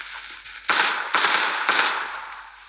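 Three sharp, evenly spaced gunshots ring out in the mobile shooter Standoff 2, each one a loud crack with a short decaying tail, heard with no talk over them.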